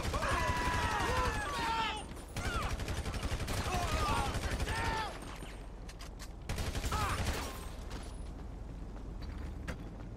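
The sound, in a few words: gunfire in a shootout, from the video game GTA Online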